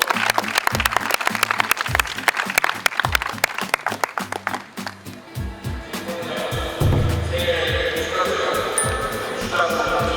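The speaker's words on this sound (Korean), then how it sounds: "박수 한번 쳐주세요" Dense, loud crowd applause fills a baseball stadium at Gocheok Dome, rapid clapping that thins out midway and gives way to a steadier, broad crowd roar near the end.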